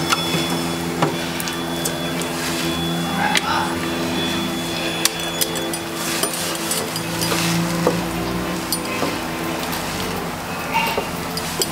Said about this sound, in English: Just scraping the rest of the soap out of the bowl here.